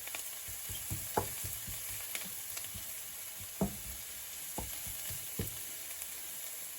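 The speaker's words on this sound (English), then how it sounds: "you can see my onions and garlic here sauteing down nicely" Onions and garlic sautéing gently in butter in a pan over low heat, a steady hissing sizzle with occasional soft knocks of a utensil against the pan, fairly quiet and close, no talking.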